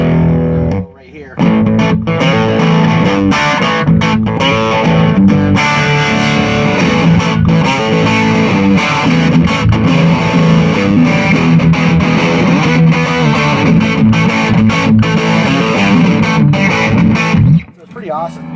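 Electric guitar played through a Sweet Honey Bees Suprotone-style fuzz pedal, giving a loud, continuous distorted tone with sustained chords and brief pauses near the start and end.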